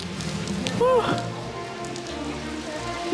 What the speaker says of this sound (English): Guys, the rain got even more heavier.